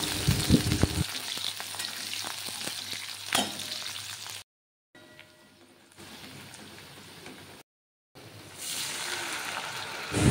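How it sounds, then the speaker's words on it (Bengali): Garlic and onion frying in oil with a nigella seed tempering crackle and sizzle close up, broken by stirring scrapes and two brief cuts to quieter gaps before the sizzling returns. "আর এদিকে দেখো কালো জিরে ফোড়ন দিয়ে রসুন পেঁয়াজ ভাজতে দিয়ে দিলাম।"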